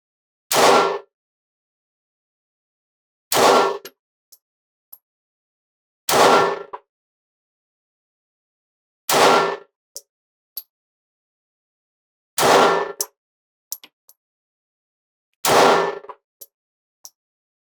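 Six loud, sharp gunshots from Winchester target range ammunition fired at a paper target, spaced about three seconds apart, each followed by faint clinks of casings, with silence between them.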